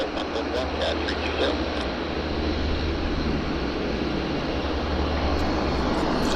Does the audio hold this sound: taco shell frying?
no